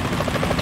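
A helicopter's rotor thumps steadily over a loud engine drone in the video game Metal Gear Solid 2: Sons of Liberty, close and continuous with no talking.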